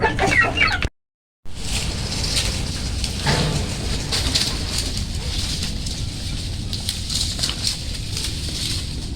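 Chickens cluck and call steadily across the recording, several birds close by with overlapping clucks and an occasional crow-like cry, after a short break of silence near the start.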